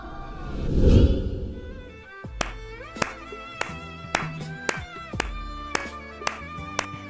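A man standing behind someone claps his hands in a steady run of sharp, evenly spaced claps, loud and close, after a brief whooshing swell, with no speech.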